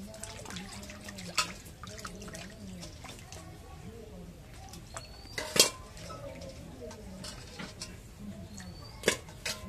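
Chengti fish being washed in a pot in a home kitchen, with soft water sloshing and a few sharp clinks of metal cookware, under faint background voices.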